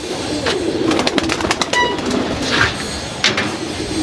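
Pigeons coo from a home loft where the molting birds are kept in their nest boxes and sunned, the soft murmuring calls steady and close against a busy background with occasional sharper bird calls.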